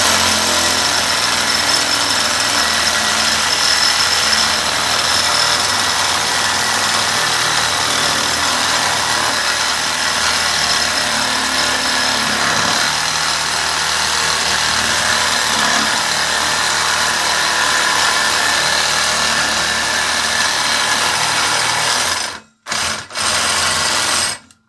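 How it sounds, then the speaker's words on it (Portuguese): An 18-volt battery reciprocating saw cutting metal, with a steady loud buzzing whir that runs continuously, close to the source, then cuts off abruptly near the end with brief stops. "Serra Sabre."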